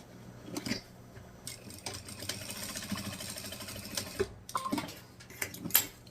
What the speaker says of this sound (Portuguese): Vou só passar uma costurinha aqui, ó, na pontinha para unir o forro à manta.